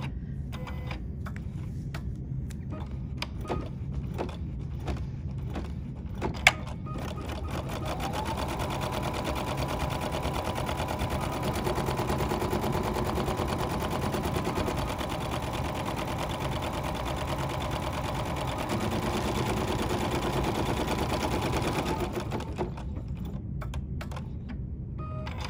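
An embroidery sewing machine runs a basting stitch around a bicycle design, a steady rapid mechanical chatter that starts after a few brief ticks and holds evenly for about fifteen seconds before stopping, close and alone.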